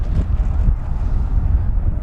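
Wind buffets the microphone in a low, rumbling roar that gusts unevenly throughout, loud and close, with no speech, at a paved runway flying an E-flite V1200 remote-control helicopter.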